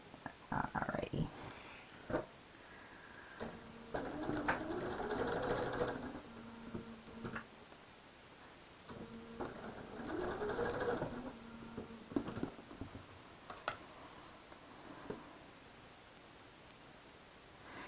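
A sewing machine stitches quilt pieces in two sustained runs of rapid mechanical whirring, with handling clicks and rustling of fabric in between, close and moderately quiet.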